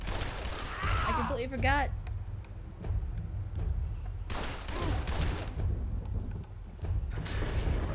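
Gunfire bursts in the video game Blues and Bullets, with dense shots and rumbling impacts that run through the whole stretch while someone talks briefly over them.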